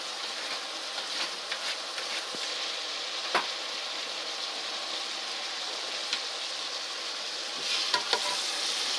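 Bok choy stir-fries with noodles in a vegetable lo mein, giving a continuous loud sizzle broken by occasional sharp clicks and scrapes as the pan is tossed.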